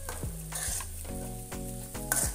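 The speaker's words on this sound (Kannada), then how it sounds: "brown colour ಬಂದೇಟ ಎಡ್ಡ fry ಮಾಡ್ಕೊಡು ನೀರುಳ್ಳಿನ" Onions fry until brown in a pan for chicken dum biryani, a steady sizzle broken by several spatula stirs and scrapes in a loose rhythm, close up.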